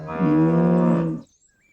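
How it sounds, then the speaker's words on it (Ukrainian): A single loud, low cow moo close by, lasting about a second, then silence. "Так, це корова."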